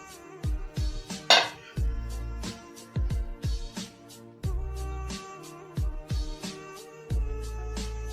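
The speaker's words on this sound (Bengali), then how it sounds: "দিয়ে হাঁড়িটা বেশ করে ঢাকনাটা চেপে দেবো হাঁড়ির সামনে" Metal lid pressed and tapped onto a pot of chicken biryani to seal it, giving a series of sharp clinks and knocks in irregular bursts, close and clear with no talking.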